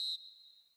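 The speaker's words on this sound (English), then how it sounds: "And with that, the final whistle." A referee's final whistle in a football video game sounds as one short, clear, high blast that quickly settles into a thin, fading tone, heard alone.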